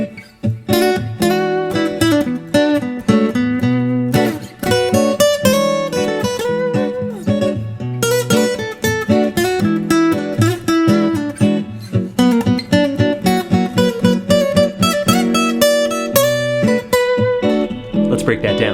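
Electric guitar solo of minor blues-rock licks over a minor dominant four-five chord progression, dense and continuous for nearly twenty seconds, with bent notes and quick phrases ringing loud and close over a steady backing.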